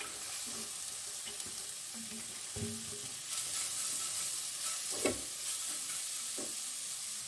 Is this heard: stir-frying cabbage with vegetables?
yes